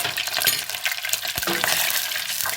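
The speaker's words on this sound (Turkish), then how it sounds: "Ve salçamız kokusu çıkana kadar kavuralım." Tomato and pepper paste sizzles and fries in melted butter and olive oil, a steady close crackle under a spoon scraping and stirring, with a few light clinks against the pan.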